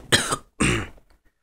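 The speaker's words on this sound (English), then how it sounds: "I'm coughing and shit" Two harsh, close coughs from one person, the second longer and rougher, followed by brief quiet.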